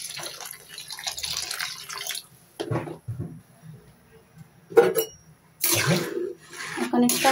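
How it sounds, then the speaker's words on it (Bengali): Water is poured into a pot of boiling lentils in a home kitchen, coming in a few separate splashing bursts with quiet gaps and faint kitchen clatter between them. "আর একটু পানি দিয়ে দেবো।"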